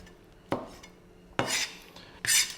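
Knife cutting through homemade pizza topped with ham on a board, three separate sharp scraping cuts with short pauses between them, close and fairly loud.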